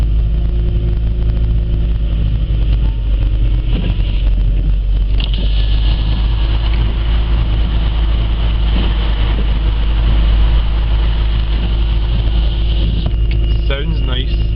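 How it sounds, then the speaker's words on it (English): A classic Y-registration V8 car passes on a motorway, its deep engine rumble blending into steady road roar and wind noise heard from inside a moving vehicle. "Hear the V8 from it."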